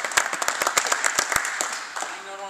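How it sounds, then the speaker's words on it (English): A small audience at a serve and receive clinic claps briefly for a guest, scattered individual hand claps forming light, uneven applause that thins out near the end, with a faint tonal sound entering at the close. "I really want everyone to give a round of applause to Richard McAfee,"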